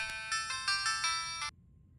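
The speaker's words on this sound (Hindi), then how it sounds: "लगता है अभी आपका फोन है।" A mobile phone ringtone chimes alone in a bright electronic melody of several quick repeated bursts, fairly close and clear, then stops abruptly.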